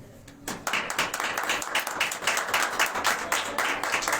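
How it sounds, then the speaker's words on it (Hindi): A church congregation claps for a visiting pastor, a state director from Punjab. The applause starts with a few hands, then swells into steady, fairly close clapping from many people that continues to the end. "आप सबकी तालियों में state director Punjab pastor Imran भट्टी।"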